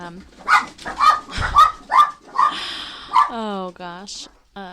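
Pet dogs at home bark several times in sharp, close bursts, with high yips and a whimper, mixed with a voice talking during a podcast recording.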